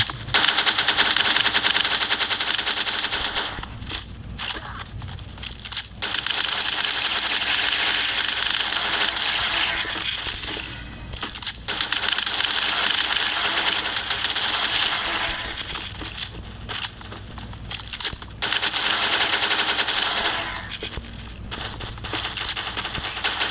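Gunfire in the Bullet Angel mobile shooter game, loud sustained rapid automatic fire in long bursts broken by a few brief gaps, dense and continuous throughout.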